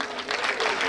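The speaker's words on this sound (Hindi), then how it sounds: "ठोको ताली" An audience applauds at a Hindi poetry recital, a dense, continuous patter of clapping hands heard at moderate level for a brief moment.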